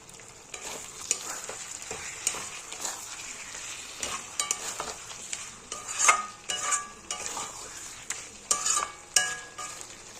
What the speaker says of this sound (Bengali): চিকেন কষানো হয়ে এসছে, দিয়ে দেবো সামান্য গরম মশলা।